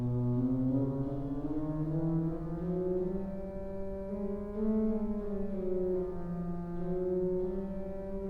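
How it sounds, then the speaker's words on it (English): A 1966 Austin pipe organ in a Lutheran church sustains a pipe of zinc changing to common metal, a loud, continuous singing tone with rich harmonics that sways slightly in pitch and stands alone without voices. "the pipe changes character completely and becomes this really beautiful singing tone"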